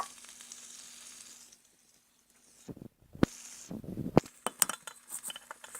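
Bacon strips sizzling in a hot pan, a quiet steady crackle at first, then louder bursts of frying with sharp clinks of utensils against the pan and dishes.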